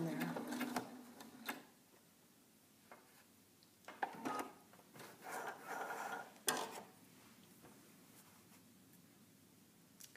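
A sewing machine stitches elastic onto a fabric mask and backstitches over it, coming in short whirring runs between pauses and rustling handling of the fabric, close by, with occasional speech.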